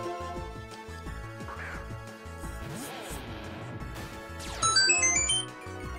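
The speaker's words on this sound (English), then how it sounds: "My phone went off again." A mobile phone ringtone chimes briefly in bright, stepped high notes over steady Pokémon Black game music, with speech present.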